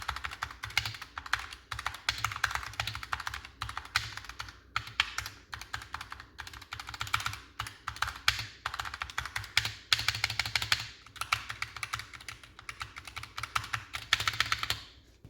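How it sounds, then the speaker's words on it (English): Rapid, continuous typing on a Razer Huntsman Tournament Edition keyboard with linear switches, fairly loud clacking keystrokes in quick irregular bursts, heard up close with no talking. "So you can hear these aren't the quietest of switches, especially for a linear switch."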